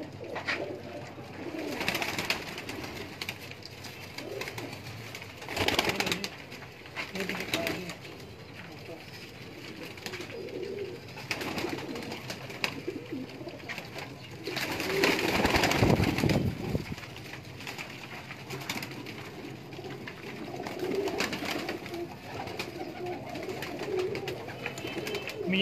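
Soft pigeon coos repeat on and off over a steady outdoor murmur at a breeder's loft in Lahore, with a few louder bursts of movement in between.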